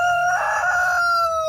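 A rooster crows clearly and close by, one sustained call with a bright, ringing tone, over a quiet background.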